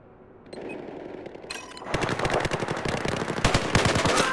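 Battlefield 4 gunfire on Xbox 360 at Guilian Peaks: after a quiet start, rapid automatic bursts build into dense, sustained shooting with loud cracks and distant explosions, continuous and close.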